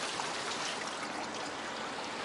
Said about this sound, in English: There's a fountain in here.